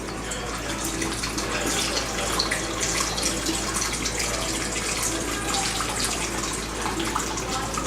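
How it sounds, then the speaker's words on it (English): Sanitizer solution poured into a home-brewing bowl for hard apple cider, a steady close splashing gush of liquid running continuously without pause and with no talking. "we're also going to empty some of this into our bowl so we can sanitize the bowl"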